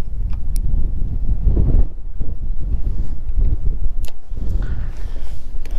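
Strong wind buffets the microphone in continuous low roaring gusts while fishing outdoors, with occasional faint clicks and splashes nearby.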